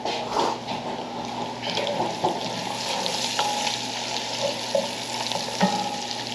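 Crispy bacon frying in a pan: a steady, close hiss and crackle of sizzling fat runs throughout, with a few faint clinks scattered over it.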